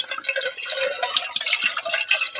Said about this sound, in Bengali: ছেলের এখন জলটা ভরে নিচ্ছি।